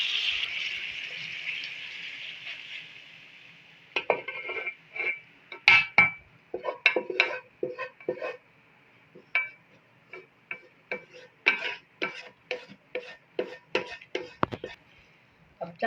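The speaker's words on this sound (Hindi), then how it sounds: "अब इसको फ्लेम ऑफ करके चावल में शामिल करती हूँ।" Cooked vegetables stirred into rice in a pan, a steady hiss giving way to a run of irregular scraping and tapping as a spoon works through the mixture, close and fairly clear.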